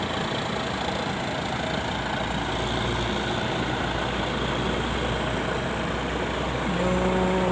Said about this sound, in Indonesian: Mesinnya Hino SR2